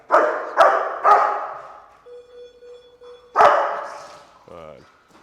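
A dog barks sharply four times, close by, during electronic collar training, with a steady electronic tone and a short squeaky whimper in the pauses.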